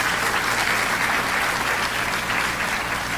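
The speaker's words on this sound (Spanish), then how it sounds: "¿Cuántos le dan un aplauso a Él?" Congregation applauding in a church during a sermon, a steady dense wash of clapping that holds at full level throughout with no voices over it.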